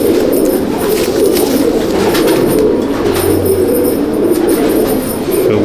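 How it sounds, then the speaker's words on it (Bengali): Madrasi pigeons coo in a steady, dense murmur that runs unbroken and fairly loud from start to finish, with several birds overlapping close by. "এটা দেখছো পায়রা, দেখো এটা হলো মাদিটা"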